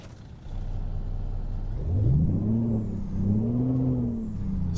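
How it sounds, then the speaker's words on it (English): A Cummins diesel engine in a Mack Ultraliner truck in American Truck Simulator cranks and catches after a brief quiet start, then settles into a loud, deep idle with two rising revs that fade back down. "That's definitely a good Cummins sound."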